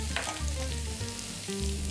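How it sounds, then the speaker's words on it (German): Salted and peppered veal chops searing in a hot pan, a steady close sizzle and crackle of frying fat with soft scraping and stirring underneath, no voices. "Und die Koteletts werden in der Pfanne oder auf dem Blanchergrill angebraten."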